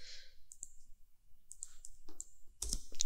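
A computer mouse clicks quietly while working in ArcGIS hydrology tools: a few sparse, faint single clicks, then a quick cluster of clicks near the end, with no voices.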